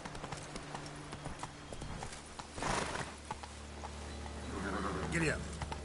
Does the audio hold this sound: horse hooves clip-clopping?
yes